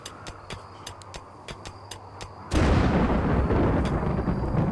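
A sudden, loud crack of thunder from a dry thunderstorm in RimWorld, a modded colony-building video game. It breaks in after soft, sparse clicks and rolls into a dense, sustained rumble that fills the rest of the clip.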